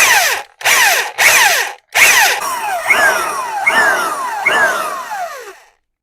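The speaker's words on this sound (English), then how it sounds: "when you drill, you just want to make sure whenever you hit the copper washer, you stop" An electric drill bores into a Harley-Davidson fork slider in several short bursts, its motor whining up and winding down between pulses. Longer runs follow, each trailing off, loud and close with no talk.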